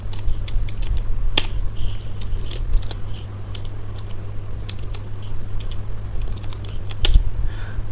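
Keys clatter in quick irregular bursts as Linux terminal commands are typed on a computer keyboard, a steady low hum running underneath, no voices.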